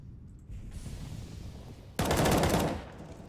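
Gunfire from a headshot in a competitive video game match: a loud, dense burst of rapid shots after a quieter stretch of game ambience.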